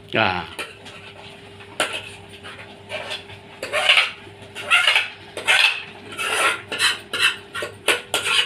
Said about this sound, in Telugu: ఇదిగో ఇప్పుడు ఇది ఇందులో వేసి కలుపుతున్నాము.